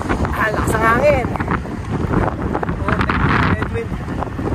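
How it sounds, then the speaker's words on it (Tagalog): Strong headwind buffets the microphone during a group cycling ride, a loud continuous low rumble with gusts, while riders talk over it. "Watak na kasi lakas ang hangin."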